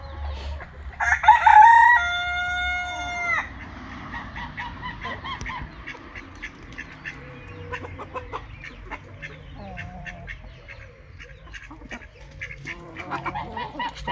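A busy mix of poultry calls: a loud rooster-like crow near the start, then scattered clucks and cheeps from a flock of birds throughout.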